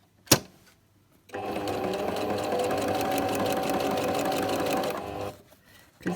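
A sewing machine stitches around a cloth sanitary pad: a sharp click, then a steady fast mechanical whir for about four seconds before it stops, with another click at the end.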